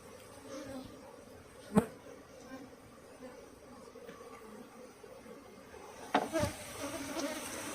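Wild cavity-nesting honeybees buzz at their nest, a continuous insect drone heard up close, punctuated by a few sharp knocks and handling bumps.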